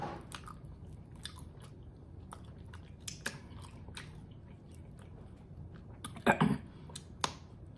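Quiet, close-up chewing and biting on Wingstop chicken wings, barbecue among the flavors: soft wet mastication with occasional crisp crunches and smacks, with a couple of sharper bites near the end.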